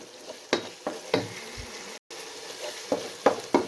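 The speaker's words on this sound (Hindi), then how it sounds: "मटर अच्छी तरह फ्राई हो चुके हैं" Peas fry in a pan for a mixed vegetable sabzi, a continuous close sizzle broken by several sharp spatula scrapes and knocks, with no speech.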